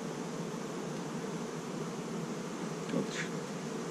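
Honeybees buzzing at an apiary, a steady, dense hum from many insects close by, with a brief louder pass near the end.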